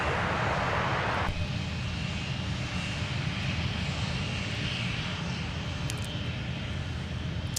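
An airplane engine on the runway at Minneapolis–Saint Paul airport gives a steady, loud, unbroken roar that fills the whole stretch, with no voices.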